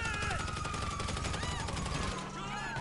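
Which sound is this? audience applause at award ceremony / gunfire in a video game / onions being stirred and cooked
gunfire in a video game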